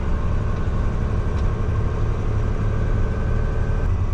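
A bulldozer's diesel engine rumbles steadily and loudly at a road milling and paving site, a constant low drone with no pauses or voices.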